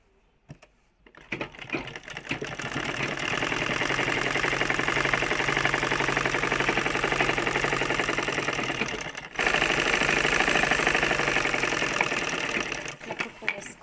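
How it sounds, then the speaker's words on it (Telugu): Sewing machine stitching a dress hums loudly and continuously, pausing briefly midway before resuming in reverse stitching, with a few mechanical clicks at start and end. "కుట్టు వేసుకున్నాక మళ్ళీ రివర్స్లో కూడా కుట్టు వేసుకోవాలి"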